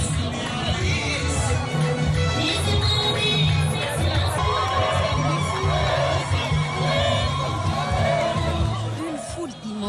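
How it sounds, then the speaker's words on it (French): A huge crowd lines the main road of Fada, Chad, waiting to welcome the president. The dense, steady roar of voices goes on throughout, with shouts, cheers and high ululating calls rising out of the loud, close hubbub. "Une foule immense s'impatiente également pour souhaiter la bienvenue au président de la République tout le long de la voie principale de Fada"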